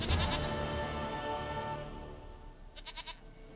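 A goat bleats in The Witcher III game, a loud wavering cry at the start that fades out, then a short burst of quick bleats near the end.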